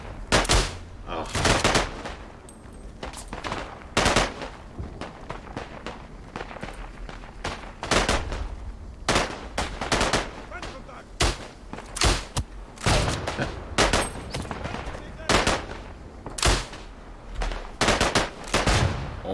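Gunfire in the World War I shooter Isonzo, loud sharp rifle and machine-gun shots in irregular bursts and single cracks, with distant firing and footsteps between them.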